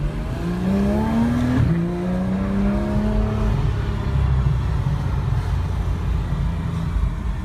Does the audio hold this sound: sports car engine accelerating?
yes